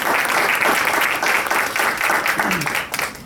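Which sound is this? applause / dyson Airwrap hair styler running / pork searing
applause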